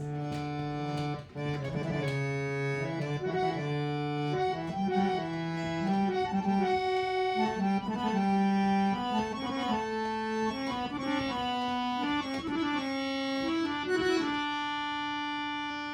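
Harmonium notes run up and down in quick stepwise scales, reedy and sustained, played alone at a steady brisk pace.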